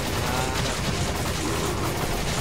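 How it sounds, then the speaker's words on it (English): Rapid gunfire from the video game Resident Evil 5, a dense, continuous burst of overlapping shots with a harsh, noisy texture, loud and filling the whole moment. "I love shooting you in the face though"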